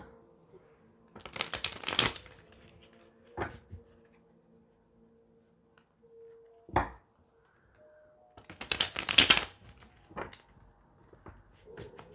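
Tarot cards shuffled by hand in short bursts of riffling and flicking, with a long pause between two main clusters and a few sharper taps, close and fairly quiet in an otherwise still room.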